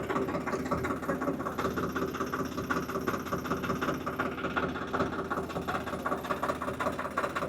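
A tractor engine idles steadily in a tomato field, a low continuous mechanical drone with an even throb and no voices.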